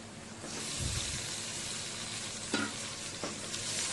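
Onion mixture sautéing in a pan, a dense close sizzle running throughout while a spoon gives a couple of short scraping stirs.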